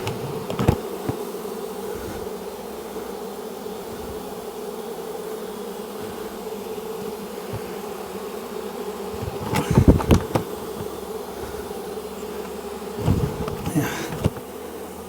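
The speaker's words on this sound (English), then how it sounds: "Some bees still get into this new bucket, but it minimises the losses." Bees buzz steadily around a bucket during the rescue of hives from a condemned building, a continuous drone with a few louder passes as insects fly close to the microphone.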